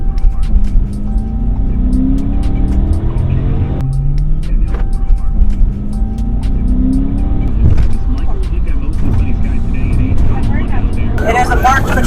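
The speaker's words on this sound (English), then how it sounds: "he was now speeding away armed in a stolen police vehicle" A stolen marked police patrol car speeds away, its engine revving and rising through repeated gear changes with a steady siren-like tone, loud and close, while a narrator's voice talks over the chase.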